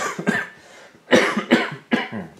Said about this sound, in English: just cough my guts up.